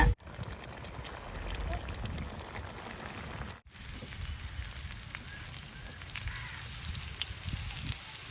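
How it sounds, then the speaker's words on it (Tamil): Cooking oil poured into a pan for frying sea fish and crab at home, a steady broad hiss and sizzle running throughout with a brief dropout, voices faintly underneath. "எண்ணெய் ஊத்துறேன்"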